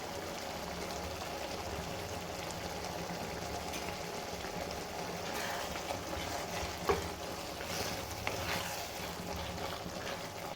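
Tomato curry, finished with coriander leaves, sizzles and bubbles quietly in a pan on the stove, a soft continuous crackle with a few slightly louder pops, no one talking.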